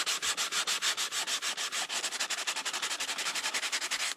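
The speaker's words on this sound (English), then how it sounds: "we're just going to go ahead and 400 grit fine sandpaper" Fine 400-grit sandpaper rubbing over a foam model jet part, a rapid steady run of scratchy back-and-forth strokes, close and loud, alone without talk.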